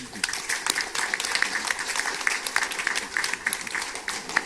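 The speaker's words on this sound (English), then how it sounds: "They deserve a round of applause." Audience at a forum plenary session gives a round of applause, a steady, moderately loud patter of many clapping hands sustained throughout, with a voice faintly mixed in.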